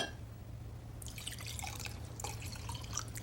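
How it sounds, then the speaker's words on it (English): Room-temperature water trickles and drips into a glass, a faint, close, uneven patter of small splashes starting after a moment of quiet, with no voices. "Take 2 glasses, fill one with water that's room temperature,"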